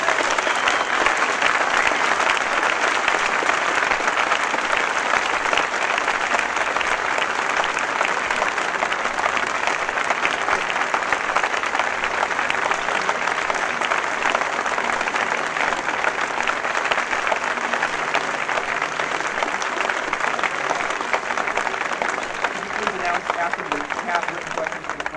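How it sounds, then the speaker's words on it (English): A university audience at UC Berkeley gives Martin Luther King Jr. a sustained, loud, steady roar of applause as he takes the stage, many hands clapping together without a pause throughout. "Thank you very kindly for your heartwarming applause"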